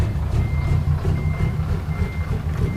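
A truck's reversing alarm beeps steadily while the truck backs up, a repeating tone over a loud, constant diesel engine rumble close by.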